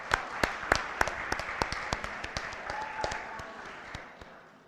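An audience at the 2025 Roxamore Sports Hall of Fame awards ceremony applauds parents: a modest round of distinct, fairly regular hand claps that thins out and fades toward the end.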